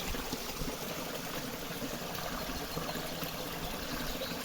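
A small stream flows steadily along a stone footpath at a picnic area in Rize, giving a continuous, even wash of water that stays close and moderately loud with no voices.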